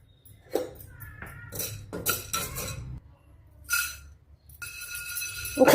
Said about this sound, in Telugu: ఫస్ట్ శనగపప్పు వేయించుదాము